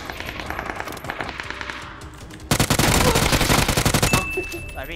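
Automatic weapons fire in the battle-royale game PUBG, with rapid rattling bursts that grow louder and denser halfway through into a sustained, close volley.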